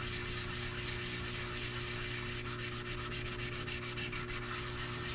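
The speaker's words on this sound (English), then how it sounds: "I'm going to sand that down as good as I can right now" Continuous, soft rubbing and scraping of sandpaper over a small metal mokume gane ring billet, steady back-and-forth strokes under a low background hum.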